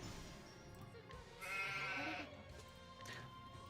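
Sheep bleating in a video game, a drawn-out bleat swelling in the middle over busy game sounds, with another brief bleat near the end.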